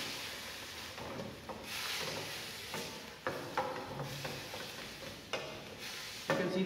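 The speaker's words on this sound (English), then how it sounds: "spinach, carrots and the coriander stems. Just mix it together." Blanched spinach, carrots and coriander stems being mixed together in a pot, with repeated soft scrapes and stirs over a faint sizzle, close and quiet, with no talking.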